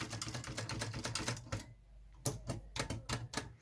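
Keys of an antique typewriter are struck in quick clattering runs, with a brief pause midway before the sharp, close taps resume.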